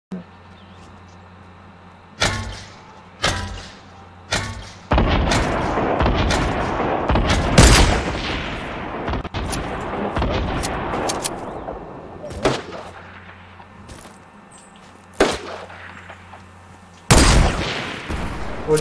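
Loud gunfire erupts in a PS4 shooter game as players fire at an opponent's built wall. Sharp single shots are spaced apart at first, then a dense, sustained barrage follows, and a few isolated shots ring out near the end.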